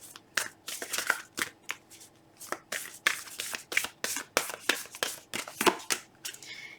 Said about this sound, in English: Let's close off your reading with an oracle card.